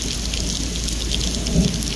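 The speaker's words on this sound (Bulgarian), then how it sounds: "вали най-силния дъжд на света с гръмотевици" Heavy rain pours in a steady, dense roar from start to finish, with a low rumble of thunder underneath and a slightly stronger swell near the end. The downpour is close and loud, and no voices are heard.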